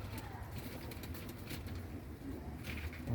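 Tumbler pigeons in a loft area, low soft cooing with faint rustling and background murmur, fairly quiet and steady throughout.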